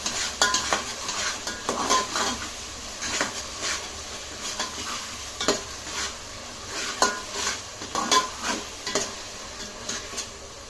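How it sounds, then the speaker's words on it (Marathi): Yogurt and masala being stir-fried in a pan for masala rice, with repeated scraping strokes of a spoon against the pan over a steady background sizzle, no talking. "दही पण घालून झालेला आहे, त्याला पण परतून घ्यायचंय।"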